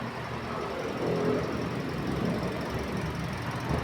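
A Toyota Vios engine runs at a steady idle close by, a continuous hum with a faint squeal and slight knock, heard alone with no talk.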